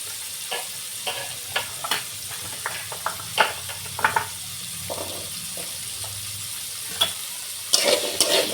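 Carrots and beans stir-frying in a pan, a bed of sizzle broken by repeated scraping stir strokes at an irregular rhythm, close and clear with no talk.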